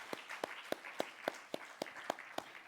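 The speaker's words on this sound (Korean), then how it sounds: "우리 교회학교 연합 찬양단 위해서 우리 박수 한번 하겠습니다." Church congregation clapping during a Korean Sunday school teachers' dedication service: faint, evenly spaced claps in a steady rhythm, about three or four per second, in unison throughout.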